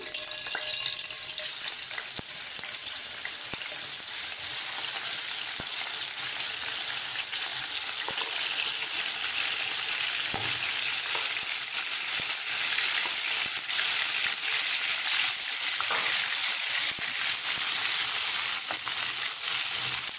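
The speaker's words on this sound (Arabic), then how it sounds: "هشوحها الاول في قلب السمنه عشان القوانص بتاخد سوا اكتر من الكبد" Small chopped, washed chicken gizzards sauté in melted ghee, a loud continuous dense sizzle that holds steady throughout with faint scraping from stirring and no speech.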